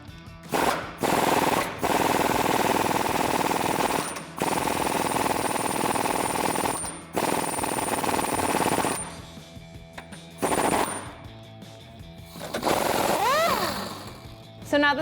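A power tool loosening body bolts on a Jeep Gladiator JT, loud rapid hammering bursts of a few seconds each, separated by short pauses, with a voice speaking in between.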